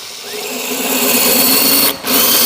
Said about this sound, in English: stand the drill up, creating a groove as I go